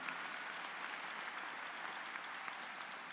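Steady, dense applause fills a large hall at a college commencement ceremony, an even wash of clapping from a big audience with no break across the whole span.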